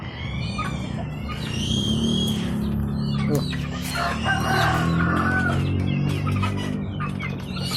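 Chickens cluck and squawk close by, with several birds calling over one another and a rooster-like crow rising above a continuous farmyard murmur.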